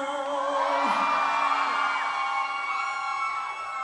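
A concert crowd at an MTV music show screams, whoops and cheers in one loud, sustained roar that swells early and holds steady throughout.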